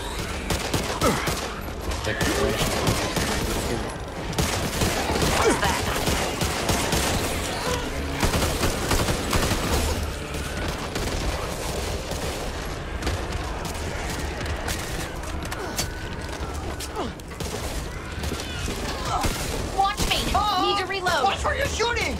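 Gunfire in the cooperative zombie first-person shooter Back 4 Blood, dense rapid shots and bursts firing almost nonstop with mechanical clatter, while players talk over the action.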